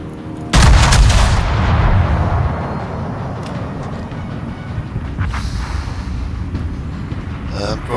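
A loud broadside from the guns of the Iron Duke battleship in World of Warships, one heavy blast that booms and rumbles out over a couple of seconds, then fades into a steady low battle din.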